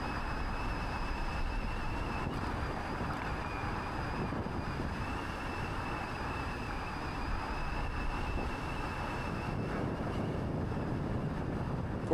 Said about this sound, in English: There is a lot of headwind